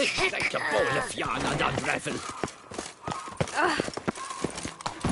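Clip-clop hoofbeats from Roach, a horse in a video game, trot along steadily under near-constant game dialogue and music.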